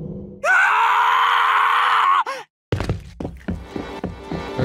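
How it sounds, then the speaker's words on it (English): One long, loud, sustained scream from a character in the Tsukihime visual novel cuts off abruptly, then after a beat of silence a run of dull thuds and impacts follows. "I scream and scream like a broken siren."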